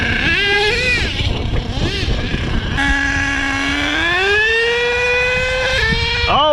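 An HPI Savage XL nitro RC truck engine screams at high pitch, dips as the two-speed transmission shifts into second gear, then climbs steadily again and revs up sharply at the end, loud and fairly close.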